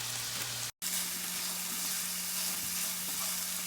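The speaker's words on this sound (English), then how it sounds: "And just stir everything around, get it combined" Coleslaw mix sizzles loudly in a pan with bratwurst, a steady close frying hiss with a low hum beneath and occasional soft stirring scrapes, broken by one brief dropout near the start.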